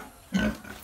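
A single short pig grunt from a breeding-stock pig on a small Filipino backyard piggery, close and moderately loud, lasting under half a second against quiet farm background.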